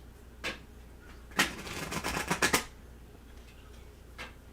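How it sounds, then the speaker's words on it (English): Tarot cards shuffled by hand in a riffle-like flurry of crisp papery flicks lasting about a second, with a few lighter card taps before and after in a quiet room. "That's why I was taking my time shuffling here."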